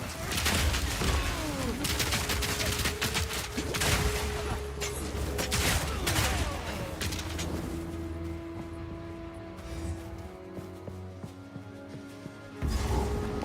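Grenade explosions in Path of Exile 2, a rapid cluster of sharp bangs and thuds over game music, then quieter tones before a final burst.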